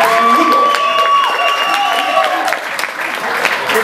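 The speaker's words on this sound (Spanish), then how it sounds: "Fuerte aplauso." Loud applause from party guests at a birthday celebration, a dense, steady wash of clapping with some cheering, and a sustained tone and voices running through it.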